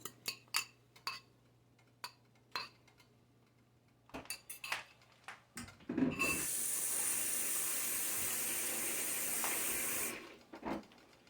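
Beaten eggs hit a hot pan of cooked meat and potatoes and burst into a loud, steady sizzle lasting several seconds, preceded and followed by clinks and scrapes of a utensil against the pan.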